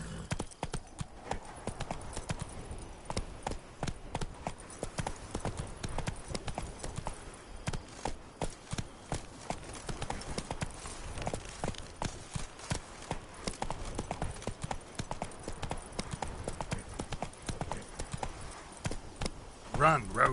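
Hooves of the horse Roach galloping in The Witcher 3: a rapid, continuous drumming clip-clop that runs steadily throughout, with a voice speaking briefly over it.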